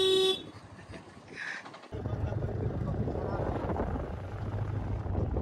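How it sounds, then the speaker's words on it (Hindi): A car horn gives one short, sharp honk at a truck ahead on a road through the old market town of Shahpur, followed by a steady rumble of the moving vehicle. "इसको जल्दी जल्दी चाचा हॉर्न मार के हटाइए।"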